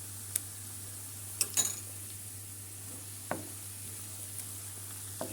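Red pepper paste and tomato paste being stirred as they fry in a pan, with a low steady sizzle and a few isolated sharp spoon taps against the pan.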